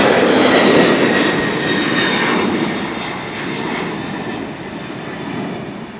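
Engines of an Aloha Air Cargo plane at LAX roar loudly and steadily, a broad rushing drone that slowly fades as the aircraft moves off, with no speech.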